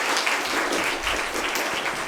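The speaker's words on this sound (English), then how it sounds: "Could you please give them a round of applause?" Audience applause at a Grade 5 school prize-giving ceremony, an even, sustained patter of many hands clapping together in a hall, steady and fairly loud throughout.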